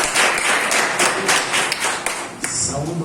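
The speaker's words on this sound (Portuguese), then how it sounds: "Receba o servo do Senhor com palmas," A church congregation at a missions service claps together to welcome a preacher, a steady dense round of applause with scattered taps close by.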